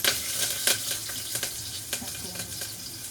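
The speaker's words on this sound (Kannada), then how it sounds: "ಎಣ್ಣೆ ಹಾಕ್ಕೊಂಡು ಸಾಸಿವೆ ಹಾಕಿದ್ದೀನಿ. ಸಾಸಿವೆ ಸ್ವಲ್ಪ ಹಾಕಿದ್ದೀನಿ ತಕ್ಷಣ ಕರಿಬೇವು" Mustard seeds and curry leaves crackle and pop as they sizzle in hot oil, a dense, bright frying hiss with scattered sharp spatters and no talking.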